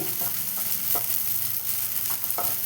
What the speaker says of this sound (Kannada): ಸ್ವಲ್ಪ ಸಾಬುದಾನವನ್ನು ಹಾಕಿ ಸ್ವಲ್ಪ ಹುರಿಯುತ್ತಿದ್ದೇನೆ